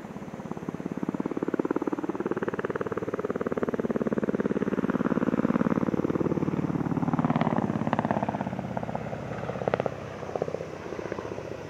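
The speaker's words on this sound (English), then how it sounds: "Coaxial helicopters are also more stable." A steady, loud coaxial helicopter rotor drone with a rhythmic beating thrum that swells and fades slightly, with no voices, at the Dubai Airshow 2023.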